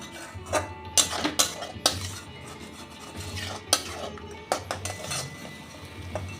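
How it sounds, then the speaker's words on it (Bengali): Cumin, coriander and turmeric powders are stirred and fried in a pan for a whole masoor lentil dish with egg and soybean. A spatula scrapes and clinks against the pan in close, intermittent strokes, with no speech. "সাথে দিয়ে দিচ্ছি অল্প একটু জিরের গুঁড়ো আর অল্প একটু ধনিয়া গুঁড়ো দিচ্ছি একটু হলুদ দিয়ে মশলাটাকে ভালো করে কষে নেবো"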